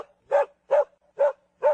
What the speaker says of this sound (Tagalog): Bigyan mo nga ako ng tunog ng askal dyan para this is if you're a dog lover.